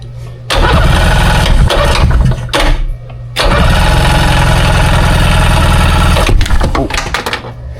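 A jet ski engine cranks over and over during a compression check, the starter grinding in two long loud bursts with a short break between them, close and harsh.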